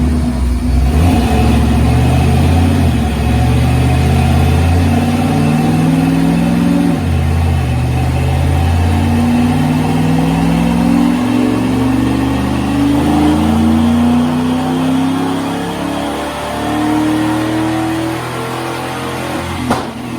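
A supercharged 1995 Ford F-150 SVT Lightning pickup with a Vortech blower and 200,000 miles roars loud and close on a dyno, its engine holding high revs and climbing through rising pitch sweeps in a sustained, unbroken pull.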